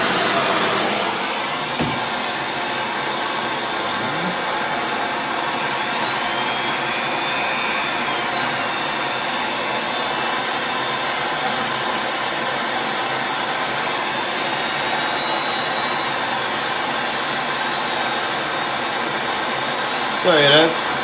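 Heat gun warming the old finish on an antique carpenter's wooden tool box, a loud, continuous blowing roar held close for the whole stretch, with a few faint knocks beneath it.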